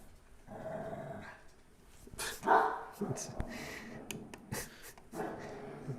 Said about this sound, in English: it's just Nacho growling at Waz